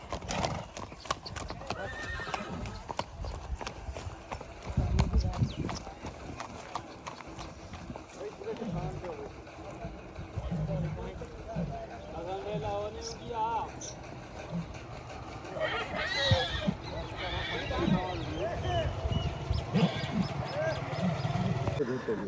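Steady clip-clop of horse hooves with a horse whinnying partway through, at a stud farm in Punjab with a Nukra breeder horse, while people talk over it throughout.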